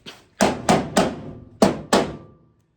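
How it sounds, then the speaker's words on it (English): A rubber hammer taps panels during a mock-up fit, five firm, dull thuds with brief pauses between them, close and alone. "Get my rubber hammer."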